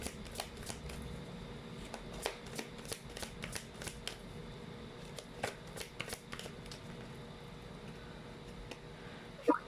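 A deck of tarot cards being shuffled, with repeated crisp riffling bursts and soft card slaps spread across about ten seconds, fairly quiet and close, with no speech.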